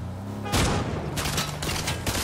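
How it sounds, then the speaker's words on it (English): Several sharp bursts of gunfire in a Fortnite match, loud and close, with a big shot at the start followed by a few quicker rapid reports that spread across two seconds. "Stop shooting at me."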